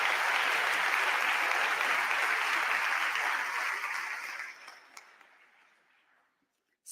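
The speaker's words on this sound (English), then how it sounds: "So let's give them a round of applause." Warm applause for students at a Martin Luther King Jr. Day celebration, a full, steady wash of clapping that gradually thins and fades to near silence, with a few stray claps at the tail.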